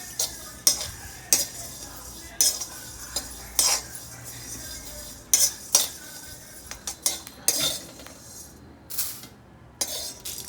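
About 30 grams of fennel seeds are dry-roasted over medium heat in a pan for biryani masala, with a spoon scraping and clinking against the metal in irregular strokes under a faint, steady hiss. No one speaks.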